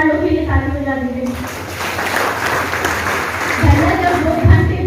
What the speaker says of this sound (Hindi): ईमानदार लोग के लिए ताली बजा दीजिए